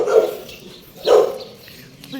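Dogs barking nearby on a residential street during a morning walk, two short bursts about a second apart, each fading quickly, with quiet footsteps and ambient street noise in between.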